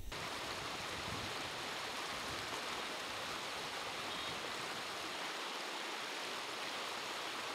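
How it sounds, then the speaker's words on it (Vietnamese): Water of the Hieu River in its low dry season flowing gently over a gravel and stone bed, a steady, even broadband rush heard close and alone, with no voices. "nước sông Hiếu đang vào mùa cạn, dòng sông vẫn êm đềm chảy"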